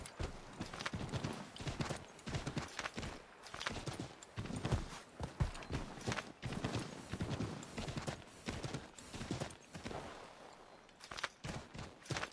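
Horse hooves clip-clop steadily in Assassin's Creed 3 as the mount runs, a dense rapid rhythm of hoofbeats filling the whole stretch with some sharp bursts mixed in.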